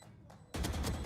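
Rapid gunfire in a Valorant esports match, a quiet game bed suddenly broken by a loud fast burst of shots over the final half second.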